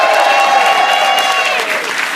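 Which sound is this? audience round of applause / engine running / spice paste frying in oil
audience round of applause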